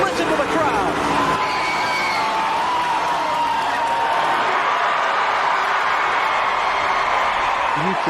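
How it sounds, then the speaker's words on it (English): A large crowd roars and cheers at the Daytona stock car race as Dale Earnhardt Jr. takes the lead, a dense, steady wall of voices and whoops that holds for the whole stretch, with engine noise blended underneath. "You can hear the crowd roaring over the sound of the engines."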